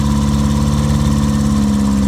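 The engine of a 1951 Triumph Renown Razor Edge Saloon idles steadily and loudly, a continuous low rumble with no one talking over it.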